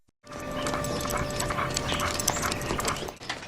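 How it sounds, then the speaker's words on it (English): A dog in a Dirty Harry film scene gives excited whimpers and movement sounds over a busy background of music and ambience, fairly loud and continuous for a few seconds. "Harry's got a dog now?"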